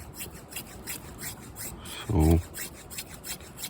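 A small bushcraft knife with a scandi-style secondary edge carves curling feather sticks from wood, giving repeated soft rasping strokes in a steady rhythm, close and quiet, with one brief low thump midway.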